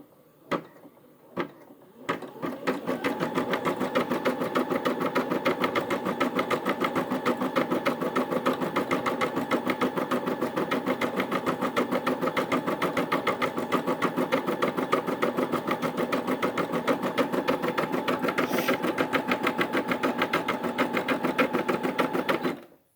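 A Brother SE 600 embroidery sewing machine starts after a few clicks and stitches steadily with a rapid, even mechanical chatter at constant speed, close and moderately loud, until stopping at the end.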